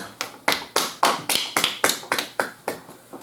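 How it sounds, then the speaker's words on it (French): A handful of people clap slowly and unevenly, about a dozen distinct close claps in a loose rhythm at a casual French Harry Potter house-sorting reveal, with no talk over them. "on peut l'applaudir"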